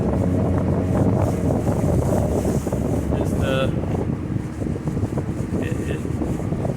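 A 1999 Landau pontoon boat with a two-stroke outboard runs on a lake, the engine's steady roar mixed with heavy wind buffeting the microphone throughout.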